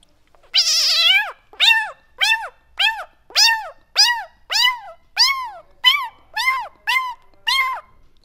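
A Chhattisgarhi mimicry artist imitates a cat with his voice. A long first meow is followed by about ten shorter, evenly spaced meows, loud and close, with no other sound between them.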